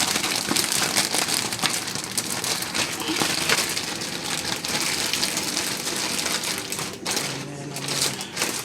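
Chicken pieces rustle and thump inside a bag of flour, a steady dense crinkling and shaking that runs close and loud throughout.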